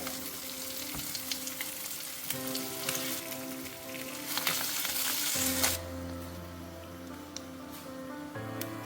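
Avoli fish fries in hot oil with curry leaves, a dense continuous sizzle and crackle close up that swells loudly midway, then settles back to a steadier fry.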